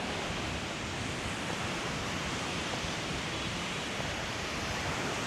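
Ocean surf washes onto a beach in Da Nang in a constant broadband roar, steady and unbroken with no voices.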